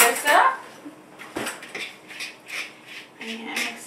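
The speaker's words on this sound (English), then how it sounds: "I'm going to go ahead and stir this up" A spoon stirs lime tilapia slaw in a bowl, giving a run of close, clattering scrapes and clinks in quick irregular strokes.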